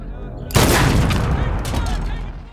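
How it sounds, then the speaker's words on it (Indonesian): Distant sniper gunfire in a film scene: a sudden loud crack bursts in and rolls out into a long echoing boom that slowly fades, with no talking. "Bob Lee sebenarnya sudah mengincang mereka dengan senjatanya dan menembaki mereka dari kejauhan"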